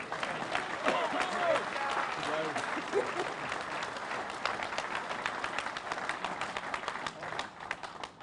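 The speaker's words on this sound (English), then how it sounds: "I want y'all to give John a round of applause" Sustained audience applause for John fills a UMWA rally in support of Senator Joe Manchin, a dense wash of many hands clapping with some cheering voices mixed in, steady and loud throughout.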